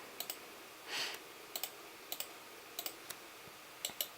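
Light mouse clicks come in quick pairs and singles at irregular intervals, close and crisp, with a brief soft rustle near the start; no one speaks.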